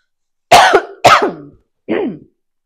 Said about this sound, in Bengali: একটু কাশি হয়ে গেছে আর কি